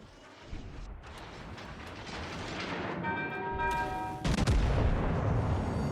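Ship gunfire in the naval video game World of Warships: Legends: heavy booming salvos build into a loud, dense roar of gun blasts and impacts, with a sharp crash near the end.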